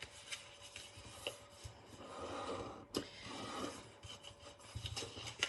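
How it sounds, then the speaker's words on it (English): Paper is folded and burnished by hand on a desk mat while making a decoration box, giving soft rubbing and scraping strokes, close and fairly quiet, with a few sharper taps. "so we're just folding and burnishing all the bits"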